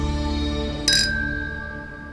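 Champagne glasses clinking in a toast: a single bright clink that rings on briefly, close, over a low musical background.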